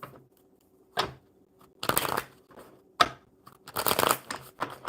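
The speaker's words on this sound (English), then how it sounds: "One more good shuffle." Playing cards are riffled and shuffled in several quick, crisp bursts of flapping, with short pauses between, close up and fairly loud.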